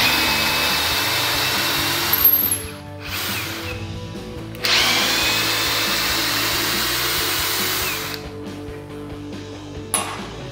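An Einhell 18 V brushless drill driver backs a screw out of very hard wood, its motor whirring loudly and steadily in long runs broken by brief pauses and a short final burst.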